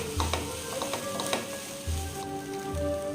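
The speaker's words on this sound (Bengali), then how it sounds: "এবার একটু ভালো করে নেড়ে দিচ্ছি।" Dalia cooking with spices such as black pepper in a pan, a soft crackling sizzle with a few quick stirring scrapes, plus a low intermittent hum in the background.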